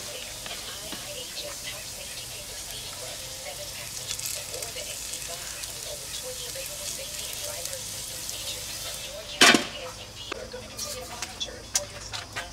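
Mushrooms and French potatoes fry together in a pan at an outdoor campsite, with a steady, moderate sizzle throughout and one loud metallic clank from a utensil near the end.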